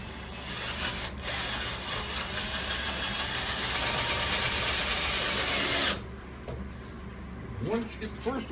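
A power drill drives screws into wood while mounting track saw storage, whirring steadily and loudly for about six seconds before stopping, followed by a few quieter clicks and handling noises.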